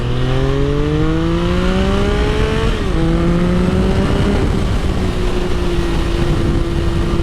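A Triumph Daytona 660 motorcycle engine pulls hard, its loud, close tone climbing steadily through the revs, then dipping briefly at a gear change before holding at a steady higher drone under heavy wind rush, with no voices.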